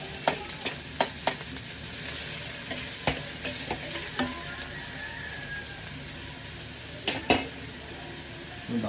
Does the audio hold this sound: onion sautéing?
yes